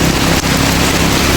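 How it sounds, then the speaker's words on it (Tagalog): Dense, steady hiss of heavy rain pouring down continuously, with no voices, just an unbroken wash of falling water. "Kahit malakas ang ulan,"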